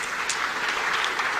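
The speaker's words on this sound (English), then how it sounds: "Please give applause." Audience at a developer summit conference applauds, a dense steady wash of clapping from many hands, brief and moderately loud with no talking.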